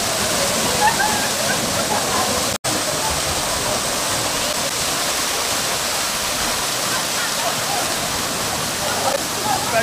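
A heavy waterfall in St Lucia, cold water pouring down hard: a steady, loud, close roar of falling water that continues unbroken except for a momentary dropout.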